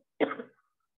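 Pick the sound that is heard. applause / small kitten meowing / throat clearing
throat clearing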